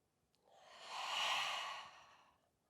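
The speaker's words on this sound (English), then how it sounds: "Use that fiery breath." Forceful yoga breath, a single long exhale that swells and fades over about two seconds, close and breathy with no talking.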